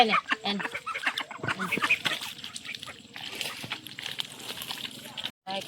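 Ducks at a village pond in the Sundarbans give scattered, overlapping quacks amid splashing and other busy outdoor activity, fairly faint and somewhat distant.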